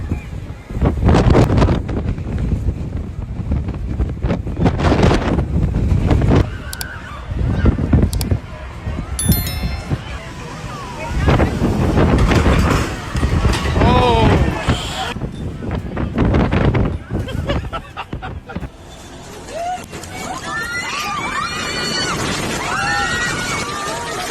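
Strong gusting wind at a beach roars and buffets the microphone in loud, rough surges, with people talking and shouting over it at times.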